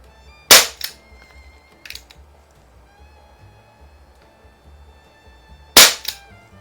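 Two sharp shots from a Crosman Vigilante .177 CO2 air revolver, patterned after the Colt Python, each a loud crack with a quick echo, spaced about five seconds apart with a faint click between.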